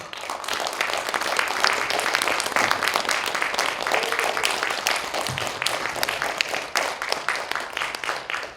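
Sustained applause from an audience at a literary festival, a dense patter of many hands clapping steadily for several seconds as a speaker is introduced.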